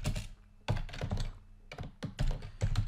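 Quick bursts of keystrokes on a computer keyboard while typing a script, close and crisp clusters of taps separated by short pauses, with no voice.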